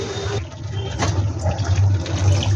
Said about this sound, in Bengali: 4 কাপ জল দিয়ে দিলাম।